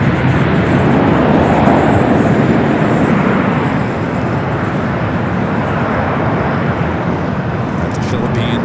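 A Boeing 787 Dreamliner bound for Paris powers down runway 24 left at LAX, a loud, dense, sustained engine roar that swells slightly early on and holds steady.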